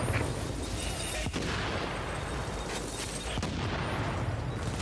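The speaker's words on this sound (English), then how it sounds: "Stop bullshitting and use the mortars on the" Mortar fire in The Division amid a continuous loud roar of combat, with a couple of sharp cracking impacts cutting through the dense rumbling barrage.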